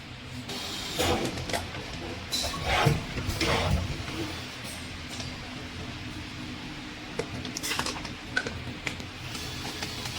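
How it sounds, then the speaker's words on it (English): A JST R300 semi-automatic screen printer runs a print cycle on a plastic cup, with mechanical whirring and a few clunks and clicks over a steady background hum. "choose to semi-auto model and click this start button to printing"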